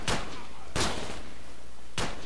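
Three loud, isolated gunshots from the video game Project Reality in a military battle setting, spaced unevenly over a low steady background rumble.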